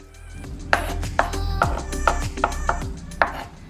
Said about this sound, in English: I grabbed 2 green onion and sliced those up as well